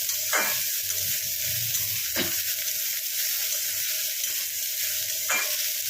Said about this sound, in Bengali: এটা ভালো করে ভেজে নিয়ে ফেরত আসছি